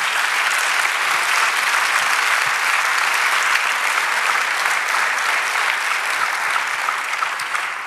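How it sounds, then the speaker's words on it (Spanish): Steady, dense applause from a church congregation during a Spanish-language sermon, a continuous even wash of clapping held at full level for the whole stretch with no voices breaking through. "Denle aplauso al Señor"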